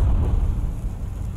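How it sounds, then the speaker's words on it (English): Cannon fire from the back cannons of an airship in the video game Worlds Adrift, a loud deep booming burst that rumbles and fades over a second or so. "Still got shots with back cannons here."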